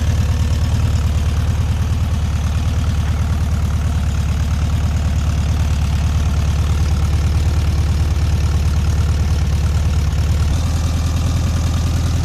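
A 1972 VW Beetle with a 1300cc engine idling, a loud, close, steady low rumble that holds evenly for the whole stretch with no talking.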